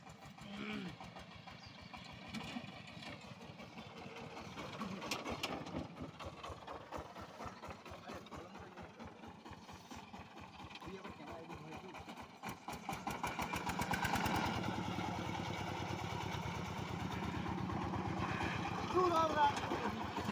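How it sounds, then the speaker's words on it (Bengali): A Changfa diesel engine on a motor van, fed petrol instead of diesel, chugs in a steady idle that grows louder partway through, while people talk over it. "তো দেখি আজকে পেট্রোল ঢালে ইঞ্জিনটাকে চালাই"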